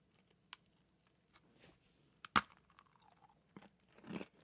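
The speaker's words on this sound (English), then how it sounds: "These are very crispy cookies, man." Crispy Sweetzels cookies are crunched close to the microphone, with scattered sharp cracks and one loud bite in the middle, followed by quieter chewing in an otherwise quiet room.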